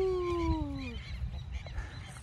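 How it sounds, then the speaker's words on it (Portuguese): A goose or duck at a park gives one loud, drawn-out honk with a falling pitch close by, over low rumbling background noise and no voices. "Na realidade, esse aí eu acho que é marreco, ganso."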